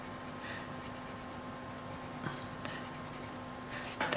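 A burnt umber coloured pencil shading on paper in an adult colouring book, giving a faint, steady scratchy scribble with a few sharper strokes toward the end.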